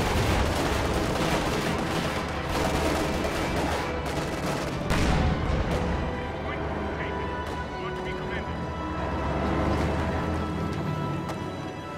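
A WWII strategy game battle fills the mix with dense small arms fire and booming artillery blasts, while a voice talks over the nonstop rattle and thuds.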